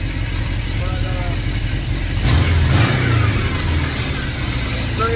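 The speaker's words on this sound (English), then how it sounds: "Now that just engine running a little bit today, so it's not a cold start" An engine runs warm after its first rebuild on a car with a Bernie Bergmann Hi Flow fan shroud, idling with a steady low rumble that swells louder and rougher midway as it is revved.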